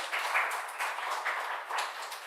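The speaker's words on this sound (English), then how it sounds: "let's give a big round of applause to these young boys" An audience at an evening speech gives a round of applause: a steady wash of clapping of moderate loudness with gentle swells, heard from a short distance.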